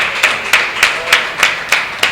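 A crowd at a union election meeting claps in a quick, steady rhythm of loud, dense handclaps, close and sustained with a faint murmur underneath.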